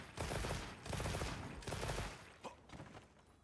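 Rapid gunfire from a light bowgun in the Monster Hunter Wilds video game, a few dense bursts of quick shots, loud and close, with no talking.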